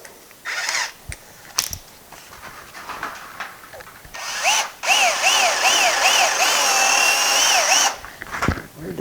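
A power drill bores out bolts for a fan mount on a 1955 car, with short bursts of whirring, then a longer sustained run of rising and falling pitch, close and loud.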